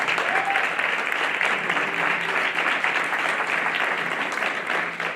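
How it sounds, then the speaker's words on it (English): A crowd at a teacher of the year ceremony gives students a round of applause, a loud, continuous clapping roar that holds steady throughout, with faint voices mixed underneath. "Let's give our students another round of applause."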